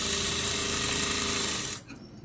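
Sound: sewing machine stitching a dori onto cloth

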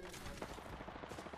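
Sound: gunfire in the video game Apex Legends

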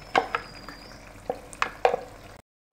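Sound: chopped brinjal frying and stirring in masala

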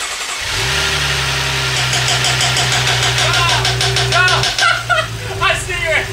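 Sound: BMW 640i new engine cranking and starting

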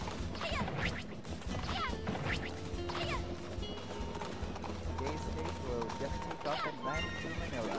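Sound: hurt horse neighing in a video game

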